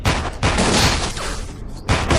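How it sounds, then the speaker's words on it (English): Rapid, loud gunfire fills an action-film hallway shootout, a dense burst of overlapping shots with a brief lull before another volley erupts at the end. "The driver draws his gun, and a fierce gunfight erupts."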